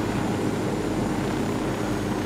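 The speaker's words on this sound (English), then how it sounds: "It's a helicopter." Steady, dense rotor and engine drone of a helicopter descending in Ghost Recon Wildlands, continuous and fairly loud with no breaks, heard alone.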